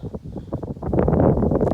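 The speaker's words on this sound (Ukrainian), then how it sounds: "Вітер такий сильний зірвався" Strong wind buffeting the microphone in loud, rumbling gusts that build and stay heavy toward the end, outdoors in cool, sunny weather during a metal-detecting search in Volyn, Ukraine.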